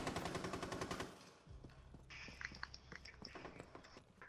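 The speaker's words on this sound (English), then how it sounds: "He just shot at me." Rapid gunfire in Rainbow Six Siege, a fast automatic burst up front followed by scattered shots and clicks further off, all at fairly low level without talk.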